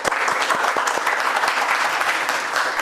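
Studio audience on a Pakistani political talk show breaks into sustained applause, a dense wash of clapping that stays steady and close throughout, with no talk over it.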